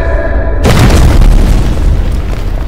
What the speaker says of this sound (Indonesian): berkat Zhang He, mereka berdua bisa menghindar dari meriam itu